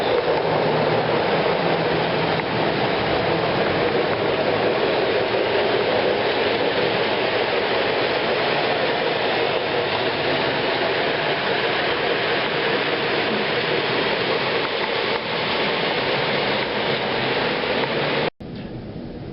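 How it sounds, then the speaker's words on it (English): Loud, continuous rumble of five trains running at once, a steady rolling roar with faint rail clatter that cuts off abruptly near the end. "We have 5 trains going at once."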